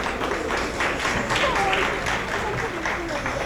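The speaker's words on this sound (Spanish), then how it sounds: "Un aplauso." An audience at a constitutional justice seminar panel applauds in a steady wash of clapping, with voices murmuring faintly underneath throughout.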